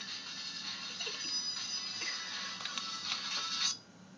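A mobile phone rings at home, its electronic ringtone tones sounding steadily for several seconds at moderate loudness before cutting off abruptly.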